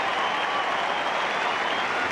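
A cricket crowd at a 1983 Australia versus Pakistan Test applauds Greg Chappell equalling the catching record, steady broad clapping that sounds distant and continuous.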